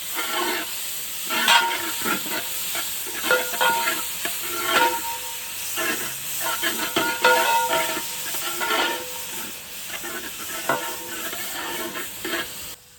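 A spoon stirs chopped tomato with coriander and mint leaves in a pan for chicken dum biryani, giving repeated irregular scrapes and clinks over a constant hiss and sizzle, close up and moderately loud.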